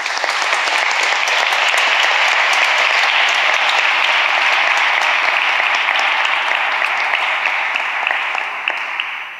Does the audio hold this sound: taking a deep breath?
no